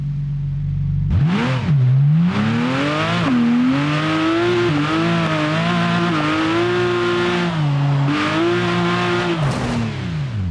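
A Porsche in a video game drives with a steady engine note that rises and falls as it revs and shifts through gears, loud and close, with no talking.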